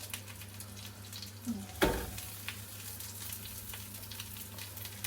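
Sauce-dipped food fries in a pan with a constant low sizzle, a sharper burst of crackling where it hits the oil and faint clinks afterward, with no speech.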